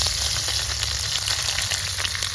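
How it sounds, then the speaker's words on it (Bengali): Onions frying in hot oil in a village cooking setup, a steady close sizzle with crackling and bubbling, continuous and loud with no talk. "লাস্ট চালান ভাজছে"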